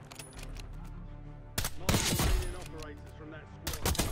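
Gunfire in Warzone, a few sharp, loud shots punctuating steady game sound, with a voice talking underneath.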